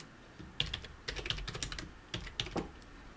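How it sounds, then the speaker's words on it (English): Keys clatter on a computer keyboard while a name is typed, in quick irregular bursts of clicks with short pauses between them, close and fairly quiet, with no voices. "And I'm going to type out"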